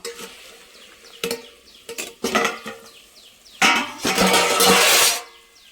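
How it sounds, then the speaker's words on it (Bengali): A cooking pot is handled and its lid lifted, with sharp metallic clatters and scrapes followed by a louder burst of sizzling from inside, close and without talk. "পাঁচ মিনিট হয়ে গেছে, এখন আমি ঢাকনাটা তুলে নেব"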